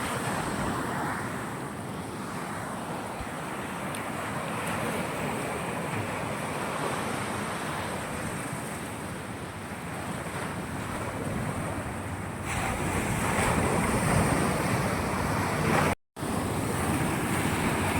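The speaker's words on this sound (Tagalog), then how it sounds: "medyo malakas yung alon ngayon" Continuous roar of strong ocean waves and gusting wind during Typhoon Kristine, rushing and swelling, growing louder near the end before a brief dropout.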